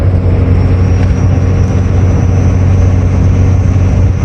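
A Cummins diesel truck engine drones loud and steady at highway speed while towing a skid steer, with a constant low rumble and a faint high whine above it.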